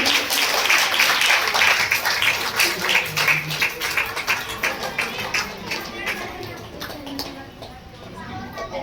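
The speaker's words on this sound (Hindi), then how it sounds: "जोरदार तालियां बजाएंगे।" A crowd at a Hindu Bhagavat Katha religious gathering in Panchkula, India claps steadily, many hands together, fading slightly toward the end while a voice talks over the applause.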